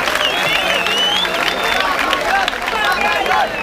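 Crowd applauding and cheering after a freestyle rap battle at a live competition event, a dense continuous wash of clapping and shouting voices throughout, loud and close.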